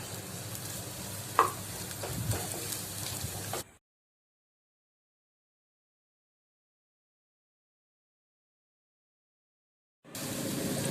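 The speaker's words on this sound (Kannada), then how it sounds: "ಒಂದು ಶೋಕುಡೆ ಫ್ರೈ ಆವಡು ಚೂರು ಬ್ರೌನ್ ಕಲರ್ ಬನ್ನ ಮುಟ್ಟ ಫ್ರೈ ಮಲ್ತೊಂದುಪ್ಪುಲೆ" Chopped onion fries in a pan, giving a steady sizzle with scraping stirs and one sharp knock, then a silent gap of several seconds before the sizzling resumes.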